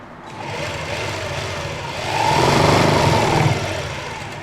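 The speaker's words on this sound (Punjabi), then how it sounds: "ਹੁਣ ਆਪਾਂ ਇੱਕ ਉੱਪਰ ਸਲਾਈ ਲਗਾ ਲੈਣੀ ਆ" A sewing machine stitches foam buckram into a salwar, its motor whirring steadily up close and growing louder and denser in the second half, with no talking.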